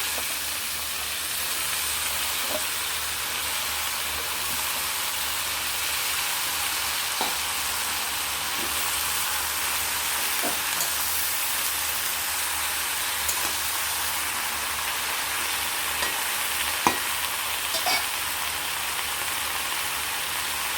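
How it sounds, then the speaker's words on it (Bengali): Pumpkin greens and their chopped stalks fry in a pan for a pumpkin-leaf chorchori, giving a steady, even sizzle throughout with occasional faint clicks of stirring and no voices. "কুমড়ো শাক আর কুমড়ো শাকের ডাঁটাগুলো কেটে রেখেছিলাম এগুলো দিয়ে দেবো"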